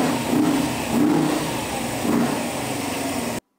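A small café racer motorbike, converted from a kid's bike, runs its engine up in a few loud, close revving surges over a steady idle before cutting off abruptly.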